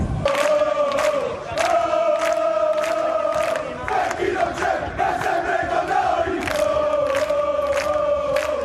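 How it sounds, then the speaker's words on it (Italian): Palermo curva nord football supporters chant in unison inside a cathedral as a coffin arrives. A large crowd sings loudly and steadily in rhythmic rising phrases with sharp accented beats, echoing in the big hall. "si alza il coro dei tifosi della curva nord del Palermo"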